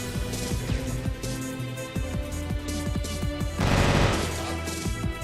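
Chain gun fire in the video game Cosmic Clash 2, a steady stream of sharp repeated shots with clanging hits, loud and continuous, swelling briefly near the end.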